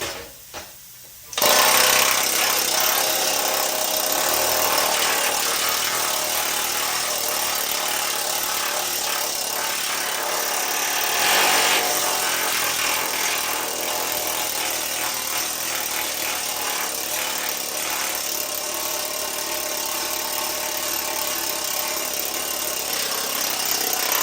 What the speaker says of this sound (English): I'm gonna run it through one more time with the planishing hammer just to smooth out.